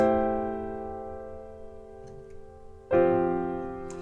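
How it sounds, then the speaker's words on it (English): A sustained, resonant chord rings and slowly decays, then a second full open chord is struck and sustains, played close and clearly. "So it goes from this very open chords that sound like this."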